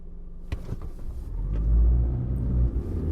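A car engine rumbles low and steady in an audio drama scene, swelling louder midway as if pulling off, with a few soft knocks near the start and no voices.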